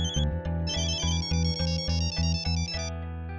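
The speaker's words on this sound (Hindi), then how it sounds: "किसका फोन है? जल्दी देखो। अननोन नंबर है।" A mobile phone ringtone plays a loud, repeating electronic melody in steady pulses, close and alone with no talk, then fades at the end.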